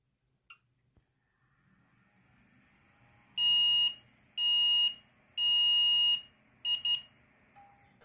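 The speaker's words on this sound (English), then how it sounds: "in most of the cases it would beep and go into a boot loop." An ERYING Phantom Wing B760-I D4 mini-ITX motherboard stuck in a boot loop gives out loud, high electronic beeps: three long tones and then two quick short ones, each with a faint low hum between them.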